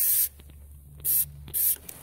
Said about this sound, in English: use some spray silicone and just put it into these